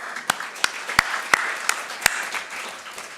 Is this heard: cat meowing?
no